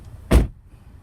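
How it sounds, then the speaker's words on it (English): The door of a 2016 MINI Cooper S 5-door hatch with automatic gearbox swings shut in one short, solid thud, close and loud, with a quiet interior before and after. "Let's just shut the door because it's telling me the door's open."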